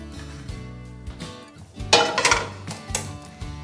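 Crepes set onto a plate in a home kitchen, a few soft clinks and dull knocks of crockery and utensils, close and moderately loud, with no talking.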